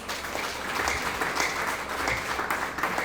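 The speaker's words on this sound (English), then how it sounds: "would you like to clap for our guests today, please?" Rotary Club members applaud their guests at a district governor's visit, a full, continuous round of clapping from a seated crowd, moderately loud and steady for its whole length.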